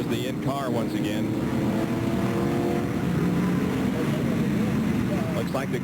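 A stock car's engine roars from inside the cockpit during a road-course race at Sears Point, a loud continuous drone with shifting pitch as it accelerates and brakes, while a commentator talks over it.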